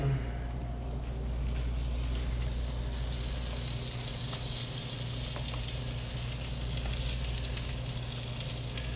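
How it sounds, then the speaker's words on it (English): Croissant French toast sizzling steadily in a hot skillet, a continuous close frying hiss with low background hum and no talk. "here we go with our first batch of toast into the skillet"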